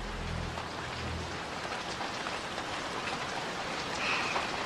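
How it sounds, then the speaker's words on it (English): Steady storm rain pours down in a continuous, even hiss, a dense wash of drops on surfaces with a slight low rumble at the start and a small swell toward the end; no one speaks. "Can you believe this storm?"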